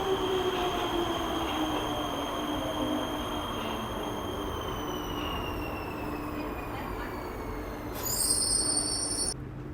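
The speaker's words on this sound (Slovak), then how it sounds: "Vidíte, že vlak prišiel" Prague metro train at Hlavní nádraží station, a steady rumbling run with faint wheel and rail tones, a long descending whine, and a brief high squeal near the end as it comes in close.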